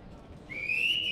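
A guard's whistle sounds in Karachi Central Jail as one piercing, steady tone that starts midway and holds to the end over quiet background noise.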